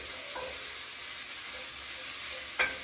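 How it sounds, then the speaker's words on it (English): Sausage and fish frying with herbs in a pan for a coastal seafood gravy breakfast, a steady low sizzle running throughout with a few light stirring scrapes and one brief clink near the end. "toss the sausage around on its side with its own herbs"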